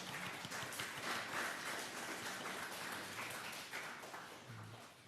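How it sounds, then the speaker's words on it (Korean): A church congregation applauds to welcome attendees at a Sunday worship service, a fairly soft, steady wash of clapping that fills the room evenly throughout. "우리 옆에 있는 분들을 박수로 환영했으면 좋겠습니다."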